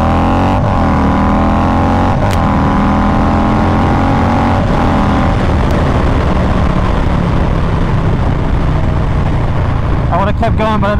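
A 150 wheel-horsepower Harley-Davidson engine pulls hard in second gear and climbs in pitch as it accelerates, loud and close, with steady wind rush throughout.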